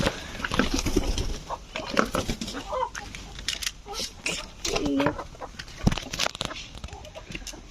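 Chickens cluck and squawk in a noisy chicken farm, with scattered calls near and far over a busy background while people talk.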